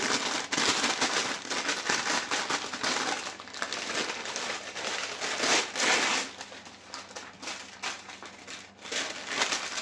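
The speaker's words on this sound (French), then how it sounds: "désolée pour le bruit, mais bon, faut bien mettre le papier" Close, crisp crinkling and rustling of baking paper being handled, with irregular crackly bursts and brief pauses.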